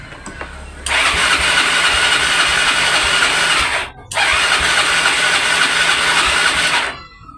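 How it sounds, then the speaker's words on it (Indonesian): A Yamaha Mio scooter that has lost compression is cranked twice by its electric starter. Each whirring grind lasts about three seconds, with a short gap between them, and the engine never catches. "Jadi mesin nggak mau ngangkat, starter juga nggak mau ngangkat"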